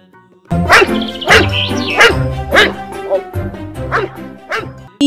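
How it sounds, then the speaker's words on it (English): A dog barks and yips in a loud, close run of several quick barks over a light children's song backing. "D for dog."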